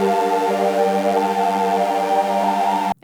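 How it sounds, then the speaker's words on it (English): Arturia MiniFreak synthesizer holding a steady, sustained chord-like tone with rich harmonics and subtle pulsing, loud and continuous for about three seconds before cutting off abruptly. "so I'm gonna be using the Mini Freak,"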